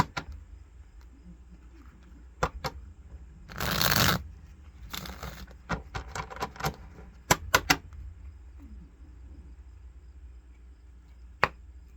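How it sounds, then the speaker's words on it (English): Close crisp riffle of playing cards being shuffled, a dense burst followed by scattered taps and snaps of cards squared and split. "3 shuffles and a split."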